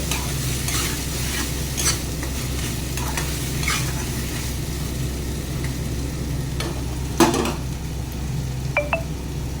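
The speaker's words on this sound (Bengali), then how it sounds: "এখানে নুন দিয়ে দিলাম। এবার ভালো করে কষিয়ে নেব।" Chicken kosha being stir-fried with salt in a pan, a steady close sizzle of frying under repeated scraping and stirring strokes, with a few sharp metallic clinks near the end and no talking.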